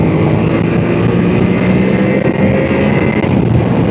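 A 2026 Yamaha Tenere 700 motorcycle's engine droning loud and close during a test ride, a dense steady roar with a low rumble that holds nearly constant throughout, without speech.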